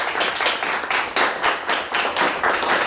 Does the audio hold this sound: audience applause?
yes